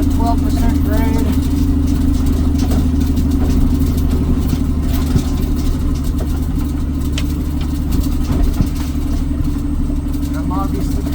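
A water hauling truck's diesel engine drones steadily at about 1400 RPM while descending a 12% downhill grade, a loud constant low rumble with faint background voices.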